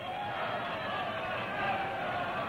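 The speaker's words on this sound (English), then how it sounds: "And the crowd goes wild." A crowd at a wrestling bout in the 1962 film Samson vs. the Vampire Women roars in a dense, continuous wash of cheering, loud and unbroken for the whole stretch.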